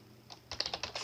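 A short burst of typing on a computer keyboard, about half a dozen crisp close keystrokes in quick, uneven succession, with no voice.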